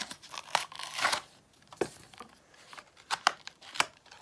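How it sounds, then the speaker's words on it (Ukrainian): Cardboard packaging is ripped off by hand during an unboxing, in a quick series of close, sharp tearing and crinkling bursts separated by short pauses. "Віддираємо цей картон."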